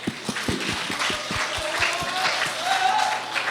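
Applause for perfect attendance award winners at a high school Sunday worship service, a crowd clapping at a steady, moderate level, with distinct individual claps standing out early and the sound swelling slightly toward the end.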